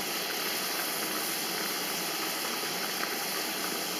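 Green beans simmer in a pot, giving a steady, even hiss with no pauses.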